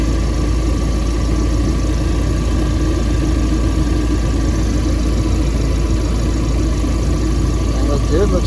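A 2019 Ford Ranger with an SPD downpipe and no exhaust fitted idles loud and close, a steady, unbroken low drone with constant mechanical vibration throughout.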